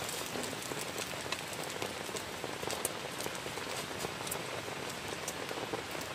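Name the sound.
heavy rain falling on a closed tent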